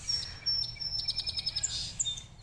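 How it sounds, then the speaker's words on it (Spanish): A small bird sings outdoors beside a tree in early spring bloom, giving a run of quick, high, bright chirps and tweets in an uneven rhythm, fairly close and clear over a soft background hush. "un pajarito nos está cantando"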